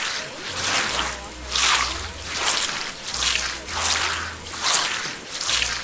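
Shower water running in the video game Manual Samuel, a steady wet hiss swelling and easing in a regular rhythm about every second, with a low hum underneath and no talk.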